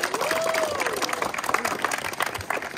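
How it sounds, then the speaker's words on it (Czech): A crowd applauds the winners at a 2023 athletics meet in Zubří, the clapping steady and dense across the short stretch, with voices mixed into the noise. "Tak zatleskáme vítězům."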